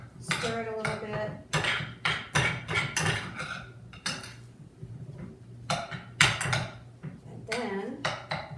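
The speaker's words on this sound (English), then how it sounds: "So just take a couple spoons and stir it a little bit." A couple of spoons clink and scrape against a dish while stirring a block of feta, giving a series of close, sharp metallic taps and rattles with brief pauses between them.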